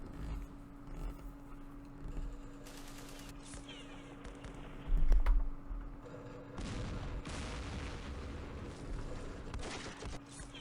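Missile strikes and explosions in the war game Campaign Series Middle East, a spread of distant booms and crackling blasts with a heavier burst midway, under a steady low background hum.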